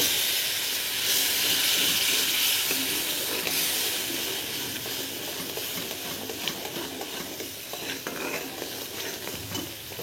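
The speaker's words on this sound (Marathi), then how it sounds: "मसाला छान फ्राय झाला, आता थोडं थोडं पाणी टाकूया।" Water poured into frying masala for spicy shev bhaji hits the hot pan with a loud, steady hiss and sizzle of steam, easing slightly over time, with a spoon stirring and scraping throughout and no talking.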